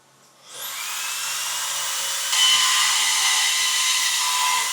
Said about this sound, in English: As you can see, our operator AJ here is bending some fresh tube up.